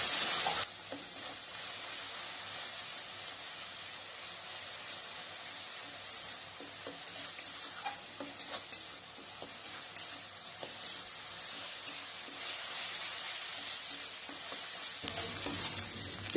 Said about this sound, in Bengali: পেঁয়াজটা দেখুন ভালোভাবে ভাজা হয়ে গেছে।